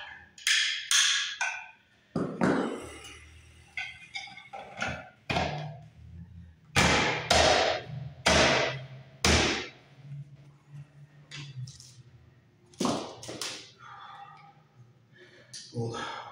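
Sharp, separate snaps and cracks ring out as tabs are knocked out of a plastic electrical box, with irregular pauses between hits and someone talking in between.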